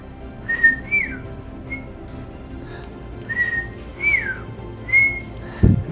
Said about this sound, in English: I can't whistle loud enough to make him hear me.